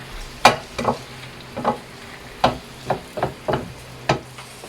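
Pork sautéing in a pan with patis (fish sauce) for a classic menudo, a soft sizzle broken by about ten crisp spatula scrapes and clanks at an uneven stirring rhythm, close up with no talk.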